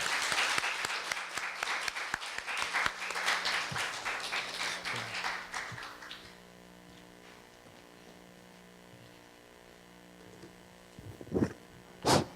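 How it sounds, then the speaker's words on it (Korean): An audience at a university lecture claps to welcome the professor to the podium, the dense applause lasting about six seconds before fading into a quiet room hum, with a few faint bumps near the end. "여러분 뜨거운 박수로 우리 최강석 교수님을 환영해 주시기 바랍니다."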